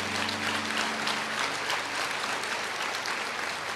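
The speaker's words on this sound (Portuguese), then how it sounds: "pode aplaudir ao Senhor." Steady, continuous clapping fills a church as the congregation applauds, a full and even roar of hands with a faint low tone under the first half-second.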